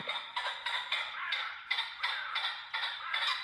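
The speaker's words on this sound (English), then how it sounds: "a wild pheasant loudly crowed nearby" A wild pheasant crows nearby at sunset, giving a series of about eight harsh, evenly spaced calls in a steady rhythm, fairly loud and alone.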